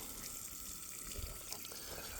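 Water running onto garden soil to pre-soak the ground before planting tomatoes, a faint steady trickling and splashing stream with a few soft gurgles.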